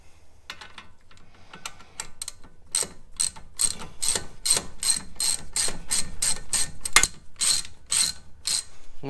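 A ratchet wrench with a socket tightens bolts on a set of slide rails, giving close, rapid bursts of ratcheting clicks in a quickening rhythmic series of strokes.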